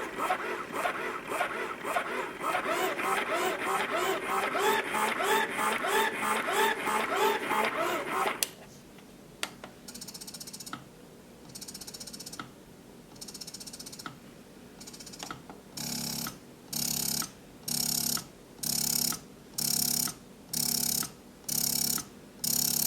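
After a stretch of dense, muffled noise, an electric breast pump starts cycling in loud, evenly spaced whooshing pulses that repeat steadily close by.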